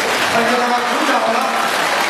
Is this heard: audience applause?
yes